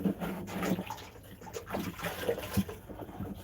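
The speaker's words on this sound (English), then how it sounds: "I'm washing her with some soap and vinegar water" A cow's udder is washed by hand with soap and vinegar water on a snowy winter farm, with close splashing, sloshing and trickling in uneven bursts and soft handling noises between them.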